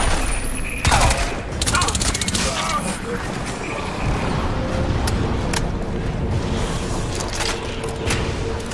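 Bursts of rifle fire in the first-person shooter Crysis 3 crack out repeatedly over a constant roar of battle noise. Someone speaks now and then between the shots.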